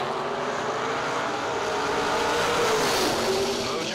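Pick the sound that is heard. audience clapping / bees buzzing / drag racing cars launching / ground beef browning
drag racing cars launching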